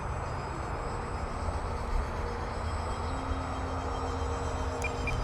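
A small FT Freedom Fox V2 RC airplane drones past at a distance, its faint, steady electric motor whine rising slightly in pitch midway over a constant background rumble.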